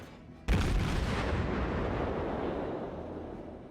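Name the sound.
naval gunfire in World of Warships video game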